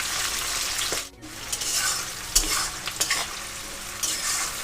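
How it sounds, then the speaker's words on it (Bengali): Three large chopped onions stirred in hot oil, a bright sizzling hiss broken by scraping strokes of a spatula and brief clatters against the pan, close and fairly loud, with no one speaking. "গরম তেলের মধ্যে পেঁয়াজগুলোকে হালকা হাতে 30 সেকেন্ড মতো নাড়াচাড়া করে"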